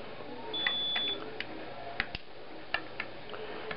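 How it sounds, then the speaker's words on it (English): A smoke detector gives a high electronic chirp once, followed by scattered sharp clicks and ticks nearby in an otherwise quiet room. "Taking out the battery because the thing will not stop beeping."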